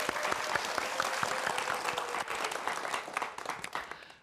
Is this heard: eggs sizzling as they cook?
no